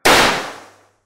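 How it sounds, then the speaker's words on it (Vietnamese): A toy cap firecracker set on pliers and struck with a hammer goes off in a single sharp, loud bang that rings out and fades within a second. "Hãy thử đặt một viên pháo lên kìm và gõ búa vào."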